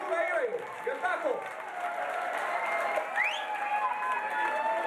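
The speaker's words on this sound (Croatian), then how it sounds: "aplauz za sve bende koji su danas tu igrali" Crowd at the Viva La Pola 2005 rock concert applauding the bands, clapping and cheering under a voice talking over the PA, with a few whistles rising above the steady applause.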